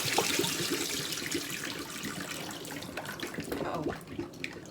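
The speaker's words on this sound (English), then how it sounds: "Make sure you wash thoroughly, because the potatoes was already sitting in some water, so you want to make sure everything is clean." Tap water runs steadily as potatoes are washed in a sink, with close splashing and trickling that shifts as the potatoes are handled.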